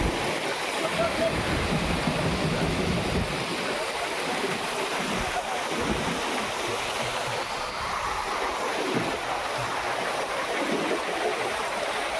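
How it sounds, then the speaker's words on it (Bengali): Steady, loud rush of a mountain waterfall near Sheshnag on the Amarnath route, filling the whole clip, a continuous roar with no breaks. "ঝর্ণাটা এখান থেকে বের হয়ে যাচ্ছে এখন"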